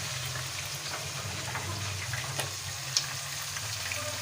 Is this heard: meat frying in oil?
yes